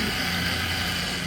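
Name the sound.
friction drive scooter plastic idler noise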